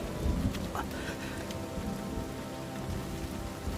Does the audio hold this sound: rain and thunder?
yes